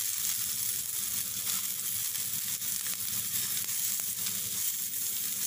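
Gola kebabs sizzling and frying in a frying pan on a stove, a steady, continuous crackle and hiss heard close up with no talking.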